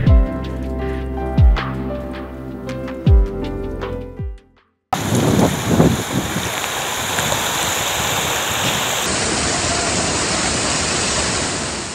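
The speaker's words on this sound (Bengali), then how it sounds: "ঝড় বৃষ্টি বাতাস এত পরিমাণ বাড়তেছে" Heavy cyclone rain pouring steadily with a dense, hissing wash of water and storm wind, preceded by a few loud tonal booms before the downpour takes over.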